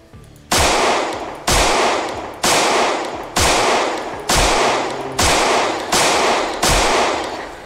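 Gunfire in the zombie survival game Project Zomboid: eight loud, evenly spaced shots about one second apart, each a sharp crack that decays slowly, with no talking.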